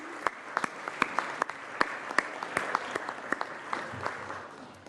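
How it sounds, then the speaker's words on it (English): An audience in a senate chamber applauds steadily, a spread of sharp distinct claps at moderate distance with no talk over it. "Can we please give them a very warm round of applause?"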